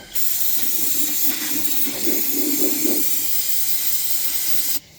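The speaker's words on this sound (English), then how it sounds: "we need to take some good old carb cleaner and clean that mess up" Carb cleaner sprays onto a seized AMC 327 V8 engine in one continuous, loud, close hiss lasting about five seconds before it cuts off abruptly.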